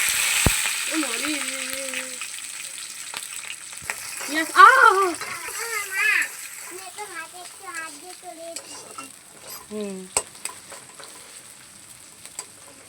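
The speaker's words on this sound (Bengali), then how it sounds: "পেঁয়াজ কাঁচা লঙ্কা কুচি করে রেখেছিলাম, ওটা তেলের উপরে দিয়ে দেবো।" Chopped onions and green chillies hit hot oil that already holds a split dried red chilli, giving a steady close sizzle with scattered clinks and scrapes of stirring, while someone talks intermittently.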